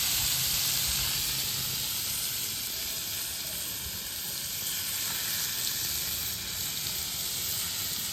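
Pieces of paneer and spice mix sizzle loudly and continuously in a hot pan, with an even, close hiss and no talking.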